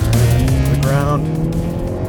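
A 2022 Hyundai Veloster N hot hatch with a dual-clutch transmission being driven, its engine note loud and close with a rising, buzzing tone and road noise, while a person talks over it.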